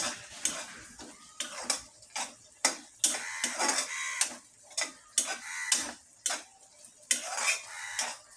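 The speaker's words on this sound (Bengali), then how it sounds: "এই তো আমি ভালোভাবে নেড়ে দিচ্ছি।" Spoon scraping and clattering against a pan while biryani masala is stirred, a steady run of sharp, close metallic scrapes and knocks with no talking.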